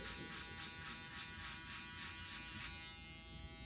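An electric skin shaver buzzes continuously as it cuts hair close to the scalp for a fade haircut, a steady, even high-pitched drone held near and uninterrupted.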